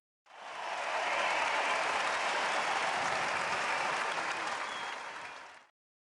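A large crowd cheers and applauds loudly and steadily for about five seconds, a dense roar of clapping and shouting that starts abruptly and fades only slightly at the end.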